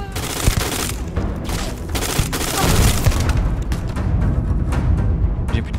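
Gunfire in the sci-fi video game Starfield, with dense rapid shots and booming blasts forming a loud, continuous fusillade throughout, with no speech over it.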